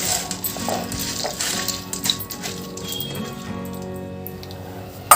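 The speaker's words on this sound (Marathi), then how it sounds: "चाळणीत काढून घेतलेली मटकी आपण आता ह्या सुती कपड्यावर टाकून घेऊ" Small hard moth beans, drained from a sieve, spill and patter onto a cotton cloth in a continuous loose rattle, with a faint clink near the end.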